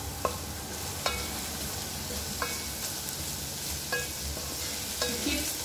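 Garlic frying over medium heat for pizza sauce, a steady close sizzle broken by about five sharp spoon taps and scrapes against the pan at irregular intervals.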